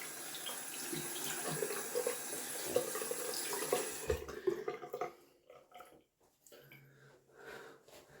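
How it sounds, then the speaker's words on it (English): Tap water running as hands are rinsed after a wet shave, a steady close splash that breaks into intermittent gushes and stops, then briefly resumes. "Rinse off the hands."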